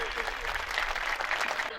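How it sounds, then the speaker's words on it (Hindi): A crowd claps at a Kanwar Yatra gathering to welcome a guest legislator, a short burst of steady applause that stays fairly faint and continuous throughout. "ऐसे राजकुमार जी मेव के लिए जोरदार तालियों से स्वागत कीजिए।"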